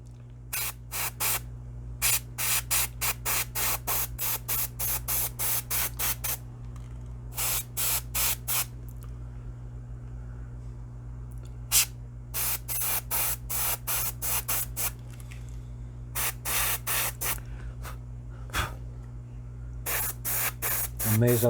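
An aerosol can sprays flat coat sealer onto a Millicent Patrick figure in short hissing bursts, rapid clusters of puffs separated by pauses over a steady low hum, close and loud.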